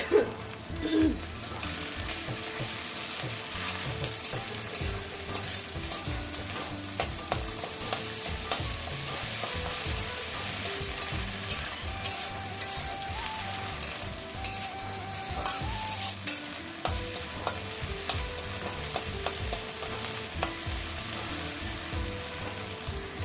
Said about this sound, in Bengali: দেবো 1 চামচ আদা রসুন বাটা।